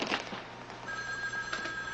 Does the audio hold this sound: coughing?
no